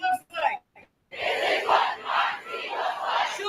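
A large protest crowd chants together outdoors, a dense wall of many voices rising and falling in rhythmic bursts after a few brief moments of closer talking at the start.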